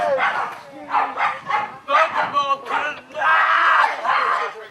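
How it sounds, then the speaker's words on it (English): Several police dogs bark and yelp in quick, overlapping bursts, close and loud, mixed with a shouting voice. "get your dogs off me, I'll spray them."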